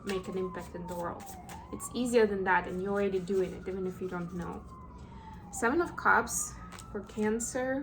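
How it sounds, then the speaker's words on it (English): A wailing emergency siren in Manhattan rises and falls in the background while a person talks steadily over it. "I apologize for the sirens"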